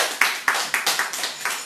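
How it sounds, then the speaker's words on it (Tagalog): Hands clapping in a quick, slightly uneven rhythm, about eight sharp claps in under two seconds, close and crisp, with no speech over them. "Palakpak mo nga."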